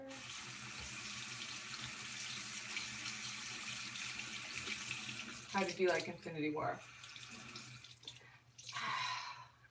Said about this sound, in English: Alright, so you ready for some running water?